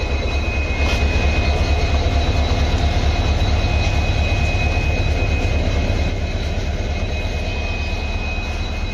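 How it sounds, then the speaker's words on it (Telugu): Diesel locomotive moving off after being decoupled at Rameswaram station, a loud continuous low engine rumble with steady throbbing, close by and unbroken for the whole stretch. "మనల్ని పుల్ చేసిన డీజిల్ ఇంజన్ ఇప్పుడే మళ్ళీ అటు సైడ్ డీకప్లింగ్ అయితే చేసి మూవ్ చేస్తున్నారు ఫ్రంట్ సైడ్"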